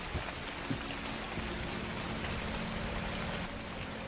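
Rain falls steadily inside a horror video game, a soft even patter and wash that stays faint and continuous, with a few faint taps and no speech.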